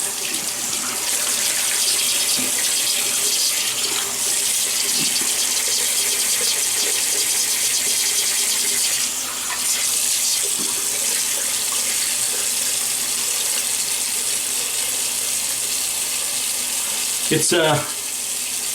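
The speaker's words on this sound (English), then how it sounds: "So let me wet the face and let's get this started." Tap water runs steadily into a sink while a man wets his face before shaving, a continuous close hiss that carries on throughout, with a brief splash near the end and a few words of speech.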